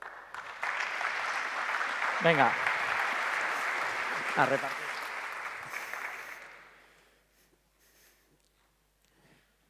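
An audience at a talk on the future of journalism applauds a speaker with sustained, dense clapping that fades out after about six seconds, and a brief voice is heard over it.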